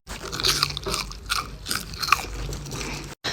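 Crunchy French fries are bitten and chewed up close, giving several sharp crisp crunches followed by softer chewing, with no one talking.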